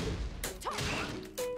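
A Shatter Kick connects in a Tekken 7 fight, giving a sharp smash-like impact with a swooshing whip, then a second crack near the end, close and punchy with no talk.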